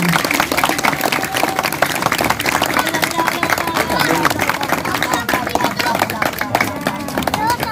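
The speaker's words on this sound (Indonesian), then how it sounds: "Tepuk tangan." An audience at a community gathering in Sorong, Southwest Papua, Indonesia claps loudly and continuously, a dense, close patter of many hands with crowd murmur beneath it for the whole stretch.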